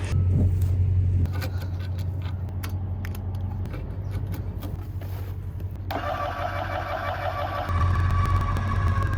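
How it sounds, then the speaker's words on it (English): A vehicle towing a horse trailer while backing into a tight spot, with a steady low engine rumble and some rattles and clunks, and a louder, busier mechanical whine partway through. "So it's really good practice for learning how to back your trailer into a tight spot."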